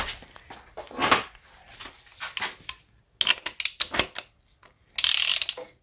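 Ratchet clicking in short bursts while tightening a glow plug in the cylinder head of an Audi V6 TDI diesel engine, with several separate runs of close, crisp clicks and brief pauses between them.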